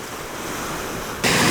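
Waves wash onto a Lake Erie beach on Canada's north shore, a soft steady surf hiss with wind, rising suddenly louder near the end.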